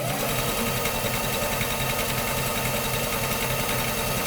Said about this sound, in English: go sew that together, and that way we don't really have to stop sewing.